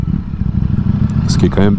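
A 2022 Ducati StreetFighter V4S motorcycle with a V4 engine of over 200 horsepower rumbles low and steady up close, with a voice breaking in over it toward the end.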